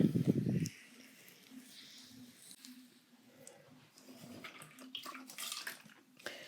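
Water is emptied out of a handmade clay pottery sink in a short, loud gush that gives way to faint dribbling and trickling.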